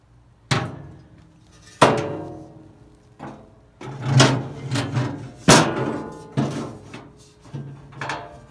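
A metal grease pan is handled and slid into a Grilla Silverbac grill, with a string of hollow clanks, knocks and scraping slides ringing out at uneven intervals, close by.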